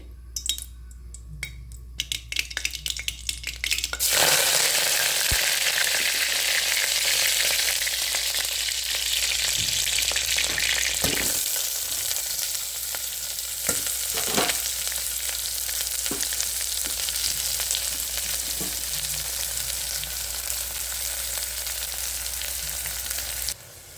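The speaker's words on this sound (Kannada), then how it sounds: "ಈ ಬೆಳ್ಳುಳ್ಳಿ ಬಿಡಿಸಿಟ್ಕೊಂಡಿದ್ದು ಮತ್ತು ಈರುಳ್ಳಿನ ಹಾಕೋದು ಒಂದೊಂದೇ ಹಾಕ್ತಾ ಹೋಗ್ತೀನಿ ನೋಡಿ" Garlic and onion dropped into hot oil for a lemon tomato rice tempering: after a few seconds of quiet clatter, a loud, dense sizzle bursts up and holds steady, with occasional utensil clicks.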